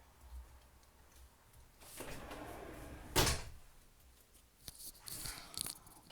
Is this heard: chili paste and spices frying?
no